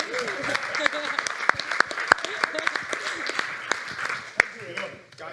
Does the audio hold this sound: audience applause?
yes